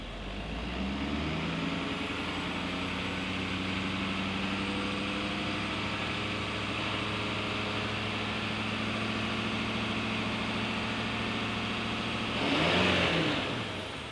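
A 6.7L Powerstroke diesel engine in a 2014 Ford F550 truck idles steadily with a deep, even rumble for a long stretch, then briefly revs louder near the end.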